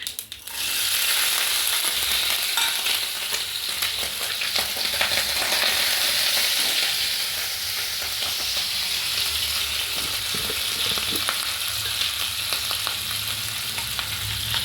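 Crushed ginger, chopped green chilli and a pinch of fenugreek fry in a pan for upma, giving a loud, continuous close sizzle with faint stirring clicks throughout.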